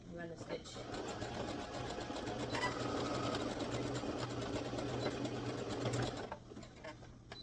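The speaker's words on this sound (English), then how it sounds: "So I'm gonna go ahead and do that on my machine. And select the zigzag stitch and run the stitch." A home sewing machine runs a zigzag stitch on Ankara fabric while making a gathered skirt. The steady, close motor whir lasts about six seconds before it stops.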